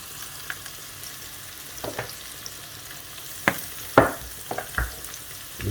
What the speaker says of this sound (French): On fait fondre le beurre.